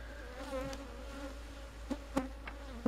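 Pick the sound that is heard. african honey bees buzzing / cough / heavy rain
african honey bees buzzing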